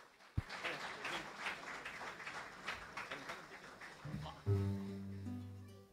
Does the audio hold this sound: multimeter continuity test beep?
no